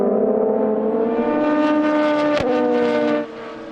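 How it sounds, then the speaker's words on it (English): An endurance race car at the 4 Hours of Le Castellet in the European Le Mans Series screams past loud and close, the engine note sweeping in pitch and a sharp crack marking the pass before it fades. "out of the pits comes Lorenzo Colombo for Prema Racing. Tiemann van der Helm, TDS Racing by Vaillant, goes by."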